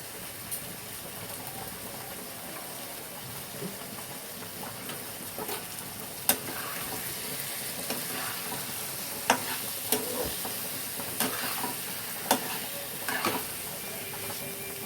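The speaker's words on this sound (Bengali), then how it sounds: "এবার ভালো করে এটাকে একটু কষতে হবে, যতক্ষণ না কষা হচ্ছে এটা কিছুক্ষণ হতে দিতে হবে।" Papad curry masala is stir-fried in a pan, a constant hissing sizzle broken by sharp scrapes and knocks of the spatula against the pan at irregular intervals, with no one talking.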